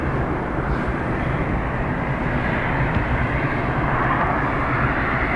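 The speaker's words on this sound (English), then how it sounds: "It just means that you won't get the full wallop of the aircraft." Steady, loud roar of a jet aircraft at Dublin Airport, a continuous broadband engine rumble that holds at the same level throughout with no talking.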